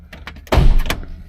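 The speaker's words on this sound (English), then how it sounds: "get the keys and get the trunk popped as well" A single solid thunk of a 1986 Ford Bronco II trunk lid releasing and swinging open, loud and close, with a brief low rumble afterward.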